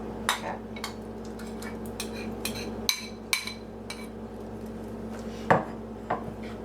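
Cornbread dressing being stirred in a dish with a utensil, a series of sharp scattered clinks and scrapes against the dish at irregular intervals over a quiet background hum.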